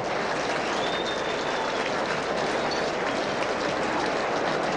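A racecourse crowd applauds and cheers as the horses return after Apache Cat's win in a Group race on the WA turf: a dense, steady roar of clapping holds loud and unbroken throughout.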